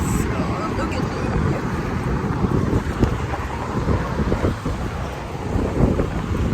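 Strong wind buffets outdoors on a hot day as a steady, loud rumbling roar against the microphone that runs the full length.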